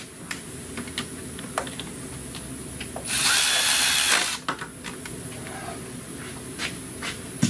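Power tool tightening a bracket during a 2010 Dodge Grand Caravan engine swap: a single loud whirring burst of about a second and a half, framed by faint clicks and taps of garage work.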